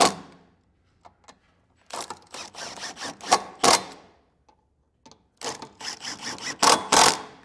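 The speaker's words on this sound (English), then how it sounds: "Now we got all of our bolts in, we're going to go ahead and snug them up." A ratchet with a 19 mm socket snugs bolts on a Class III trailer hitch on a 2025 Kia Carnival, giving two runs of quick, close metallic clicking separated by silence.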